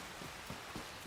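Steady rain in the video game Ghost of Yotei, a dense even hiss of falling water with a few soft thuds, heard alone with no voices.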